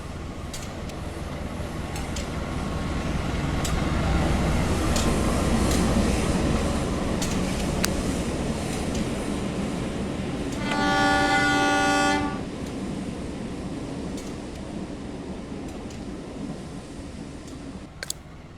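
An Indonesian passenger train runs straight through a small station without stopping, a loud steady rumble of wheels and cars heard from on board, with a sustained horn blast partway through before the noise eases.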